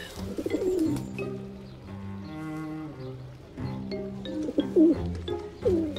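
Soft, low pigeon-like cooing rises and falls in several phrases, with a few sharper bird calls on top and sustained tonal sounds underneath.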